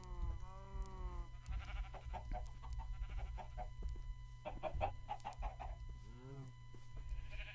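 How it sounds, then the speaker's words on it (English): Minecraft chickens cluck and bleat in short bursts against a steady low background hum, with occasional soft clicks between calls. "Let's see if I can get these chickens in here."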